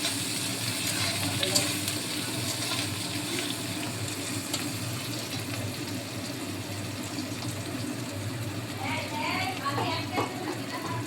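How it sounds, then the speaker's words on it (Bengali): Dry red chillies, bay leaf and onion sizzle and crackle in hot oil as a tempering for a chickpea ghugni, a continuous bright hiss with occasional spits and faint background voices. "এই গরম তেলে শুকনো লঙ্কা, তেজপাতা, পেঁয়াজ ফোড়ন দিয়ে দিয়েছে"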